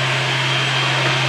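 An old-fashioned electric hand dryer in an airport lounge shower room blows with a steady, loud whooshing roar and a constant low hum, with no breaks from start to finish.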